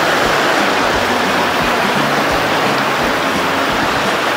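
A powerful waterfall in Jharkhand pours down in a loud, unbroken roar of rushing water, dense and steady throughout with no voices.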